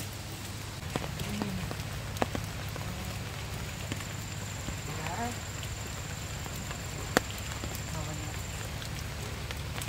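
Heavy rain falls in a steady, even wash of hiss, with scattered drops and sharp ticks on a surface, heard fairly quietly and continuously throughout.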